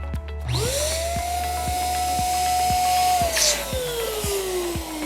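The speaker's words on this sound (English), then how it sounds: "you are going to blow up all of your balloons" Electric air pump inflating size 12 party balloons for a flower balloon garland, a motor whine rising then holding before sliding down as air fills the balloon, with steady rhythmic ticks underneath.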